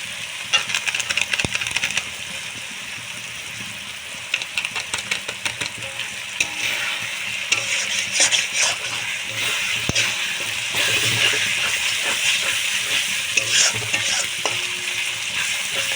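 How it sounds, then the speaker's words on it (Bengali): Spices for a Bengali-style chicken curry sizzle and fry in a pan while being stirred, a continuous loud hiss broken by scraping and tapping of the spoon against the pan. "খুব ভালো করে সব মশলা আমি কষিয়ে নেব"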